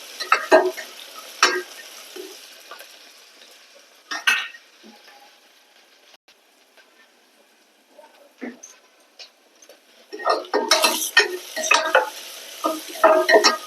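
Peanuts tossed into chopped onion frying in oil in a home kitchen for a dahi bhindi dish, giving bursts of sizzling and spoon-stirring scrapes at the start and end with quieter frying in between.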